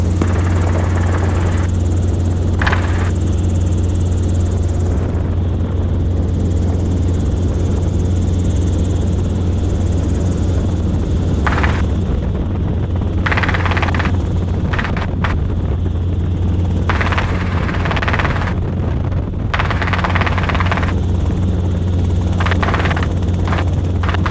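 A Robinson R22 helicopter in flight, with a loud, constant rotor and engine drone heard from inside the cabin and intermittent higher rushing bursts throughout.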